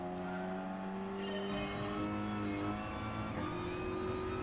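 A race car in Gran Turismo Sport with its gearbox grinding, heard from inside the car as a continuous droning, whining engine tone that shifts pitch, moderately quiet with no talking.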